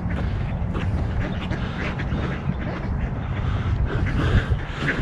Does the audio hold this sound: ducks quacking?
yes